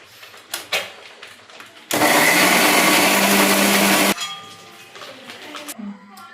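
A kitchen blender grinding tomato, cumin, ginger and two cardamom pods into a paste, a loud steady whir lasting about two seconds, with clinks and handling noises before and after.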